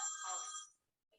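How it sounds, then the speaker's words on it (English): A telephone bell gives one short bright ring indoors, cutting off after under a second, followed by a faint brief chirp. "The weirdest thing is that is a phone that never rings."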